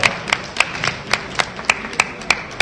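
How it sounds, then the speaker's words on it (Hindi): An audience at a Dainik Jagran anniversary event in Delhi claps for the organisers in a steady, rhythmic beat of distinct, fairly close claps, with little talk over it. "एक बार जोरदार तालियों से इस आयोजकों के लिए एक बार तालियां होनी चाहिए जोरदार।"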